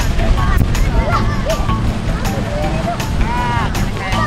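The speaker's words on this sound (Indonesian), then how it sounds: "anginnya kencang sekali guys" Strong gusting wind buffets the microphone during an outdoor kite-flying contest, a loud continuous rumble with whooshing bursts under excited talking voices throughout.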